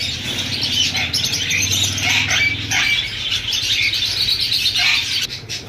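Pet lovebirds, including lutino pastel red-eye pairs, at a Sunday bird market in Bahawalpur, a busy chorus of overlapping high chirps and tweets that runs steadily throughout, fairly close and loud, with low background rumble beneath.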